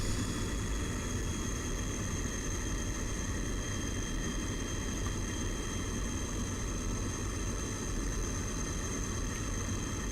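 Jet engine of a MiG-21bis in a flight simulator, power being raised on approach before landing: a steady, loud, continuous roar with a broad rumble and a high whine, unbroken throughout.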